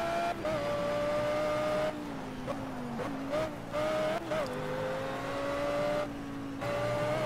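A race car in the Project CARS racing game revs hard with a loud, steady engine whine that dips and climbs through gear changes, with brief tire squeal in between.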